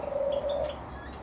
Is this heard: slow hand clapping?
no